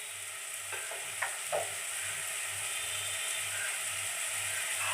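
Onions frying in a pan until golden give off a soft, steady sizzle, with a few faint scraping clicks from stirring near the start.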